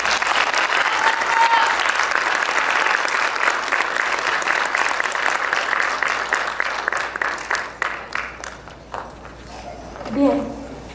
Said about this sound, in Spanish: Entonces un aplauso